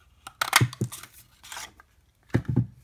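A 1.5 inch circle punch cuts out paper in a few sharp crunching snaps, close up, with short quiet gaps between the presses.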